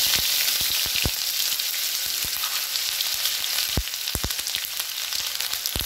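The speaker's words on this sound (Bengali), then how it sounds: "এবার এর মধ্যে আমি কুচিয়ে রাখা আদাগুলো দিয়ে দেবো।" Chopped ginger crackling in hot oil with bay leaf, dry red chillies and five-spice seeds, a loud dense sizzle with scattered sharp pops and spatters throughout.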